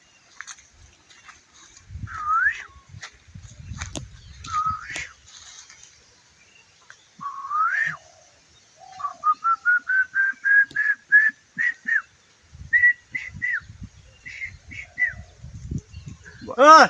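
A man whistles an imitation of a koel's call, with several rising whistled notes and then a quick run of repeated short whistles, clear and close, with faint rustling between.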